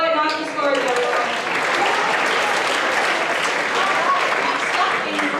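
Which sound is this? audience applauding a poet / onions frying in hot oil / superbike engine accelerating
audience applauding a poet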